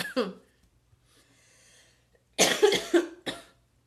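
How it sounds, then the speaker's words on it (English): Several harsh coughs close by, one short cough first, then a cluster of three after a quiet pause. "Suddenly, like, I have to cough."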